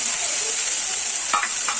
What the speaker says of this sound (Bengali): একটু রসুন দিয়ে দিলাম, একটু পেঁয়াজ দিয়ে দিলাম, একটু সামান্য একটু নাড়াচাড়া করবো।